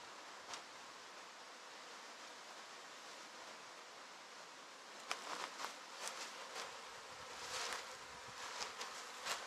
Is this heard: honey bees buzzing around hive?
yes